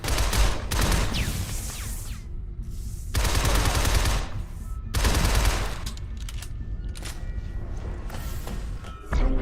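Repeated bursts of automatic gunfire from the side-scrolling shooter Shadow Complex, loud and close, in several volleys separated by brief gaps filled with mechanical ambience.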